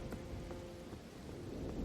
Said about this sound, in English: Lightning strikes are starting to blow up the forest I'm in.